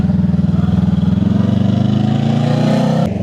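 A Honda Rebel 500 motorcycle pulling away, its loud, close engine thumping in a rapid steady pulse that rises slightly in pitch as it accelerates, then briefly drops off near the end.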